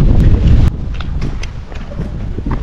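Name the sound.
strong wind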